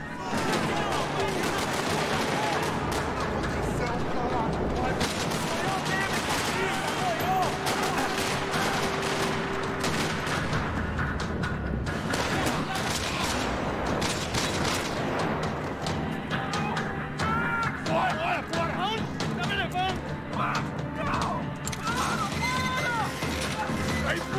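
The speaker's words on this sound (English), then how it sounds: "Another parking lot rattling with gunfire." Dense, sustained gunfire rattles through a parking lot in the video game Max Payne 3, loud and continuous with overlapping bursts and booms.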